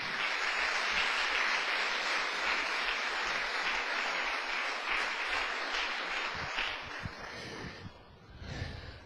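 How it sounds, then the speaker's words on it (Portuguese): A church congregation applauds the Lord, a steady dense wash of clapping that holds for several seconds and then thins and fades near the end, heard at a moderate distance. "dê uma salva de palmas para o Senhor"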